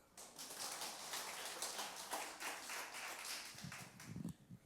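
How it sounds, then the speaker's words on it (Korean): A small church congregation claps steadily for several seconds, a patter of hands fairly close, tapering off with a few low murmurs at the end. "장로님한테 박수 한번 쳐주세요."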